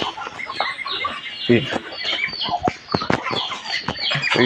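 Pet Chinese ducks give short, close, irregular calls and clucking bursts with occasional wing rustles, while a person talks over them.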